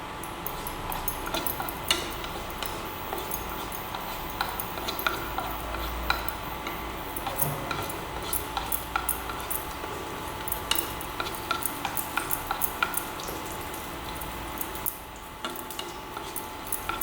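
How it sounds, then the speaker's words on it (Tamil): Cumin and fennel seeds crackle in hot oil in a kadai, a steady soft sizzle with scattered quick pops and ticks running evenly throughout. "எண்ணெய் காய்ந்ததும் 1 சிட்டிகை சீரகம்,"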